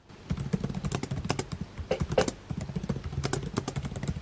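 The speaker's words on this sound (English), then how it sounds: "I used to be so much better at typing." Rapid, uneven typing on a computer keyboard at home, close and clear, a steady patter of key clicks with small pauses and a few heavier strikes, with no voices.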